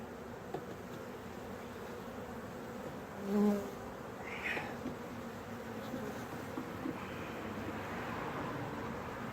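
Bees buzz steadily around a beehive, a continuous close insect drone with a brief louder pass midway and faint background hum, no talking.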